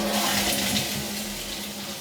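A loud toilet flush at Disney's Old Key West resort: a steady, close rush of water that holds for the whole two seconds with no voices over it.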